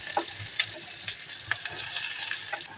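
Chopped onions sizzling in hot coconut oil in a pan while being stirred, with a steady close hiss and scattered scraping taps of the spoon, no voices.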